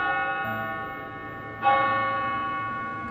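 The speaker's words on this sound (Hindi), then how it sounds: "क्लॉक टावर ने 2 बजने की घंटी बजाई।" A clock tower bell sounds a single bright strike partway through, its struck tone ringing out over an already sustained, humming chime that slowly decays, with no voices.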